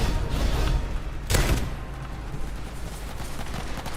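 Shotgun blasts in a Roblox battle game, loud and close, with a dense burst of firing and a heavy boom in the middle over constant game noise.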